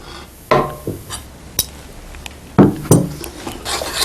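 A metal cooking pot is lifted off a stove, giving a few sharp clanks and scrapes of metal on metal in a short burst, close and alone.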